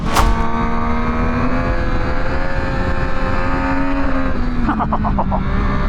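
A 2024 Yamaha MT-09 motorcycle engine wails loudly on twisty roads, a sustained high, strained note with a brief burst of rapid pulsing near the end.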